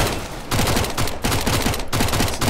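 Rapid bursts of Mac 10 submachine gun fire in Counter-Strike: Global Offensive, loud dense rattling volleys separated by brief gaps, with no talking.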